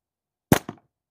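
Prime Fork G10 Casper slingshot fired at a target: a sharp snap followed a beat later by a second, softer smack, isolated and fairly close.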